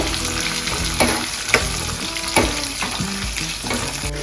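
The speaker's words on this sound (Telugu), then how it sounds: "తాలింపు అయితే చక్కగా వేగుతూ ఉందండి" Dried red chillies and onions frying in a hot oil tempering for buttermilk rasam, a steady close sizzle broken by a few sharp stirring clinks and scrapes of the spoon, with no talking.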